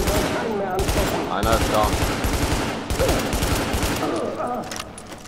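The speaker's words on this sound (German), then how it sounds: "Hey, wir schießen gerade" Sustained automatic gunfire in the video game The Division, loud dense bursts rattling almost continuously with brief gaps, while someone speaks briefly over the shooting.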